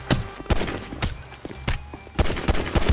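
Gunfire in a GTA roleplay game: repeated sharp shots in irregular bursts, some close and loud, others lighter, spread across the whole stretch with no talking.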